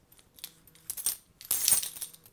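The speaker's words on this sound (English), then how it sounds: "so I got a little key stuff, and two keys, well, I guess three if you include that tiny one" Small metal keys on a handcuff keychain jingle and clink in a few quick, close bursts, the last one brightest, against near silence.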